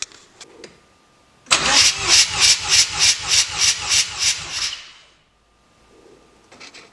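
A rotary engine cranks for a compression test on its rear rotor, giving about a dozen even, rhythmic starter pulses over three seconds, with quiet before and after.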